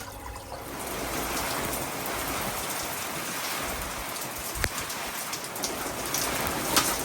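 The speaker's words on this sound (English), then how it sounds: "The rain's actually blowing straight into the shop" Heavy rain pours steadily and loudly, blowing straight into an open workshop, a dense continuous hiss of drops on surfaces with a few sharper splashes and no voices.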